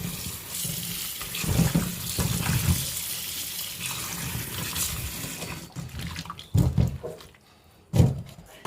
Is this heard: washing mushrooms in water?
yes